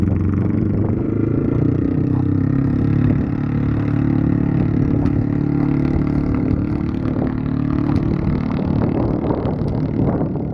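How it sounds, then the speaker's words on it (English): A 550 engine on a generator with strong engine braking and high compression, decelerating loudly with a rough, clattering low drone and scattered sharp pops, close and continuous. "When you decelerate, it pops so much."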